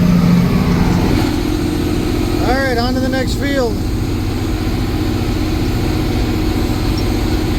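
A farm tractor engine idles and runs with a steady low rumble throughout, while someone speaks briefly over it partway through.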